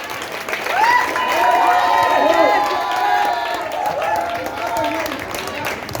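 An audience at a children's dance program for an August 15 celebration bursts into sustained applause and cheering, with a crowd clapping steadily over several seconds while a voice speaks over a loudspeaker.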